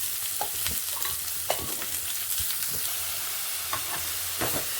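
Masala with chili powder is sautéed in a pan for Nagapattinam dry fish curry, with a constant soft sizzle and scattered scraping stir strokes close up and no talking.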